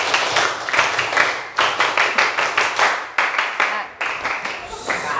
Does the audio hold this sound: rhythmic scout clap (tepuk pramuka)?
yes